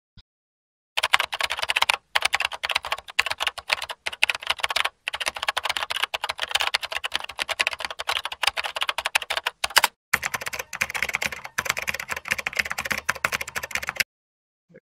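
Fast typing of SQL code on a computer keyboard, dense clattering keystrokes in bursts with a few short pauses, close and clear, with no speech.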